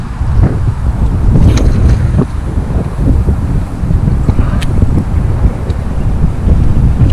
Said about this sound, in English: See, the wind is coming from my left. It's pushing this way.